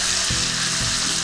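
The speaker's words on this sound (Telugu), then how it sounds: "ఇప్పుడు మనం అల్లం వెల్లిపాయ పేస్ట్ వేద్దాం" Ginger garlic paste hitting fried onions in a hot pan, a loud continuous sizzle with a couple of soft stirring thuds underneath.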